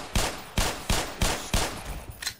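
Six sharp gunshots ring out in a Black Mesa firefight, spaced roughly half a second apart, each a loud close crack with a short decaying tail, no talk over them.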